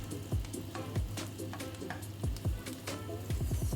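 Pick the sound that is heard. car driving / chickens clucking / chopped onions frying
chopped onions frying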